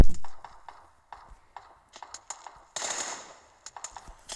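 Bursts of video game gunfire in a three-versus-one match, sharp cracks spaced irregularly with a denser rapid volley near the middle, over a faint talking voice.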